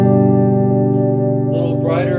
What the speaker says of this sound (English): This is the Seymour Duncan quarter pounder.